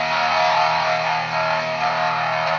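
A guitar played through a distortion effect pedal gives a dense, steady, saturated tone sustained for a few seconds at a constant loud level, with no talk.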